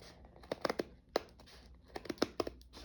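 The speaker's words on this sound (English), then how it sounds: "So I'm just trying to cut right on the threads" Thread stitches being cut to open a seam carefully, giving a series of short, close crisp snips and tearing crackles in irregular bursts, quiet and alone.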